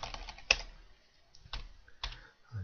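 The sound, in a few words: typing on computer keyboard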